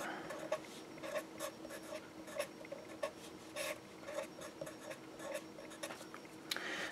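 Pen or chalk strokes on a lecture board, quick rhythmic scratches and taps repeating over several seconds, close and fairly quiet with no voices.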